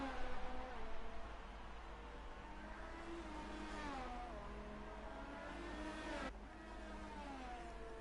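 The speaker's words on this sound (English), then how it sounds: "And here we go side by side, SJH and Don Silva into the second chicane." Simulated F1 race cars from an online league round in Italy, side by side into the second chicane, engines droning steadily then dropping pitch with a sharp downshift near the end, heard under a continuous mid-level roar.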